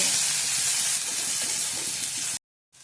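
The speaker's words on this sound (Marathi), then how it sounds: "आता कांदा चांगला तेलात भाजलाय" Onion frying in oil for a radish bhaji gives a steady, close, broadband hiss and sizzle that holds evenly before cutting off abruptly.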